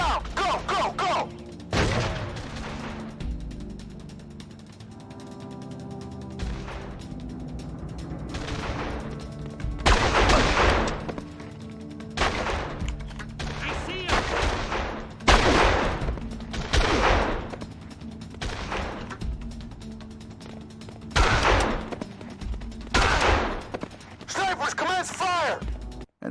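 Sniper and machine gun fire in the PS2 game Made Man, repeated loud bursts of rapid automatic fire separated by quieter gaps with voices and game sounds, close and intermittent.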